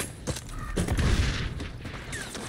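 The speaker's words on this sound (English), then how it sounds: "I'm quickscoping now" Gunfire in the online shooter XDefiant comes as a few sharp shots spread over a busy, noisy game mix, with some lighter mechanical clicks in between and no clear speech.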